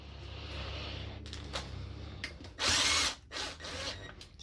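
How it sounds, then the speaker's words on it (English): A power drill snugs down a part during a 1998–2002 Honda Accord transmission rebuild, with a steady motor hum and a loud, high whirring burst near the end, followed by a shorter rev. "Snug it down for your drill."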